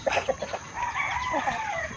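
Several chicks cluck and chatter close by on a farm, overlapping short calls with a drawn-out squawk in the middle.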